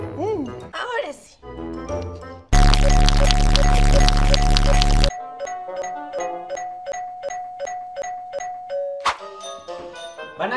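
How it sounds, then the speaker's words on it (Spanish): Household doorbell rung repeatedly, a burst of rapid loud chimes followed by a long series of steady, evenly spaced ding tones, with a person speaking and exclaiming before the ringing. "Van a quemar el timbre."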